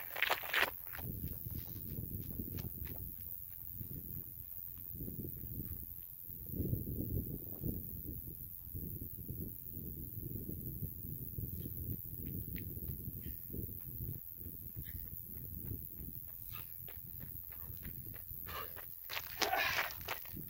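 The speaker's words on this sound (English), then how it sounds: "You hold it up to the top, and then you run." Footsteps of a person running outdoors while holding a bike up overhead, a steady thudding patter of feet kept up throughout at moderate distance.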